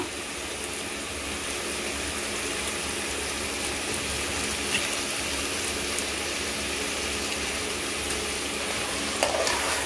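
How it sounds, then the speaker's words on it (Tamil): Country chicken biryani masala frying and being stirred in a pan, a steady close sizzle with scraping stir strokes running throughout, no voices. "நல்லா கிளறி விட்டுக்கோங்க"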